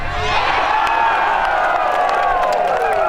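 Large crowd cheering and whooping steadily at a Saturday golf exhibition round featuring the Golden Bear, a dense sustained roar with no pauses.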